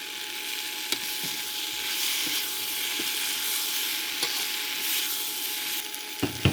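Chopped onion and green onion sizzle and fry in a tofu and vegetable stir fry, a steady bright hiss throughout with several sharp clicks and scrapes of stirring near the end.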